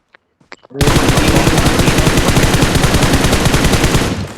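Rapid, continuous automatic gunfire from a video game, loud and dense for several seconds after a few brief faint sounds, with no talking.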